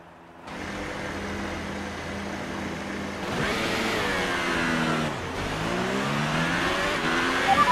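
Formula 1 race car engine in a video game revving at the race start, a steady idle snarl that jumps to loud rising and falling revs as the start nears, with no talk over it.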